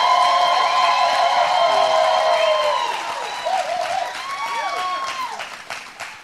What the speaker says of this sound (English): Deja, this applause is for you.